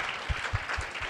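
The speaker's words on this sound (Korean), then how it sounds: "뜨거운 박수 부탁드립니다" An audience at a university talk event gives a short burst of applause, soft steady clapping with a few heavier claps, faint and brief.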